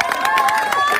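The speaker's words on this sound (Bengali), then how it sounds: "তার জন্য সবাই জোর একটা হাততালি প্রথমে" Applause for the winner of a sweets-eating challenge, a brief loud burst of clapping from a group, near and dense.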